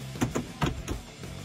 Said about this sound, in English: just listen to those, you know, shifts. You know, this is a very durable sounding shifter.